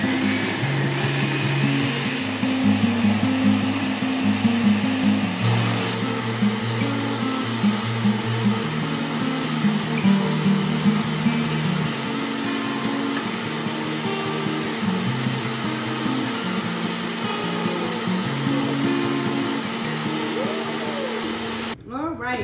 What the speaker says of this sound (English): we're gonna place it on the blender and we're gonna blend